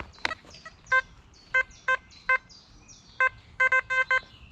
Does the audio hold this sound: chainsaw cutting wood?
no